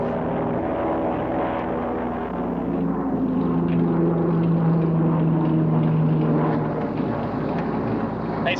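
Propeller aircraft droning overhead off the coast, a steady loud engine hum with low tonal throb that swells slightly mid-pass, continuous throughout with no talk.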